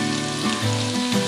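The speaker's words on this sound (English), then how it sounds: "And you'll hear a sizzle." Onions hitting hot oil in a pan, giving a brief, steady crackling sizzle heard up close with no talking.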